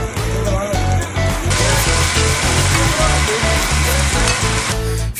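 Hilsa fish frying in mustard oil, a loud, dense, continuous sizzle and crackle of hot oil heard up close, steady throughout with no talking.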